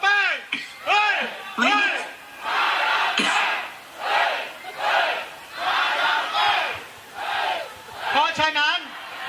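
A loud crowd shouting and cheering in rhythmic surges, with individual voices yelling over the roar.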